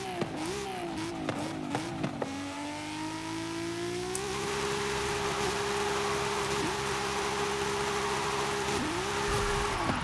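A car engine swapped and boosted to around a thousand horsepower revs hard in Forza Horizon 5, with a loud, sustained drone that climbs through several gear shifts and holds high before one more shift near the end.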